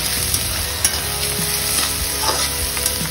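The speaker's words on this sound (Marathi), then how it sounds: "चांगल्या प्रकारे भाजून घेऊया। हे बघा तुम्ही बघू शकता यात थोडा कांदा लाल झालाय।" Onions frying in a pan for a quick tiffin vegetable dish, a steady loud sizzle with occasional scraping stirs of a spoon, close up and without any talk.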